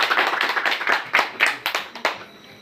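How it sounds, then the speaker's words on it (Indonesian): Students in a classroom clap for a group in a quick, uneven burst of close handclaps that taper off after about two seconds. "Tepuk tangan untuk kelompok."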